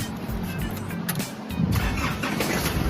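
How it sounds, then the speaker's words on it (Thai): A car engine cranks and catches partway through, its low rumble swelling and settling into a running hum, heard quietly with no talking. "สตาร์ททีเดียวติดนะครับ"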